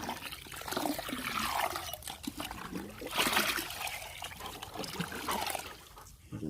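Chlorinated water poured from a scoop into a backyard swimming pool, a fairly quiet trickling, splashing flow that swells and fades over several seconds with no talking.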